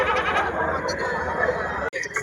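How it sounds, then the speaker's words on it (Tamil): Goats bleating at a busy livestock market in Ranipet, several wavering cries rising over a constant crowd din, with a brief dropout near the end. "இந்த பக்கம் இது உள்ள ஃபுல்லா பாத்தீங்கன்னாலே ஆடுகள் தான் இருக்கு எல்லாமே."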